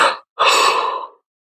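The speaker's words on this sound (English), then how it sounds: "I hope somebody's keeping a tally of how many times I yawn" One person yawns with a short breathy intake, a brief pause, then a longer drawn-out exhale fading away, close and clear with no other sound.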